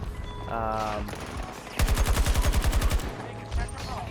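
Rapid automatic gunfire in a shooting video game, a burst of about twenty evenly spaced loud shots after some softer game sounds and a brief single shot, close and dominant.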